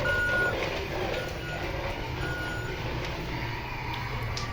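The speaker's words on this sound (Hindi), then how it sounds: "अब मैं इसको पीछे चलाता हूँ। ये देखिएगा, ये मैं ये पीछे वाला बटन दबाता हूँ।" Remote-control musical monster truck toy reversing, sending out a steady run of evenly spaced electronic reversing beeps over a constant motor and background hum, with no talk.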